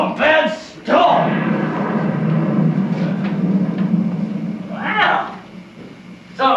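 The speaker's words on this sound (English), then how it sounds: "But you really should oil that door." A door creaks open in the Shadowbrook Mansion game, giving long groaning, whining creaks at the start and again near the end over a low, rumbling storm ambience.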